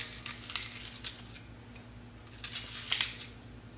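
A knife peels the skin off an apple, making soft scraping and crisp cutting strokes in two short bursts of activity, close and fairly quiet over a low steady background hum.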